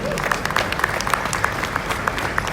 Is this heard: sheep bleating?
no